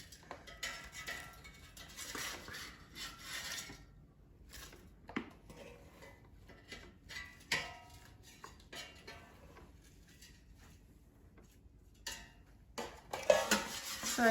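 Breaded zucchini slices being shifted around in a metal air fryer basket make intermittent light clinks and scrapes, scattered bursts with quiet gaps and a busier cluster near the end.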